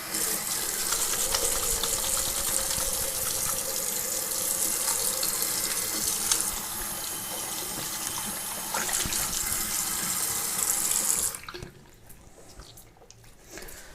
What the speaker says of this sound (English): So allow me to wash my hands.